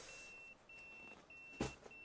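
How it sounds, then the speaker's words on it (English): A pager beeping in the video game Yakuza 0: a thin, steady electronic tone repeating in short pulses, faint and close under a low background hum, with a brief louder bump near the end. "Oh, that's my pager. Oh, your pager's going off."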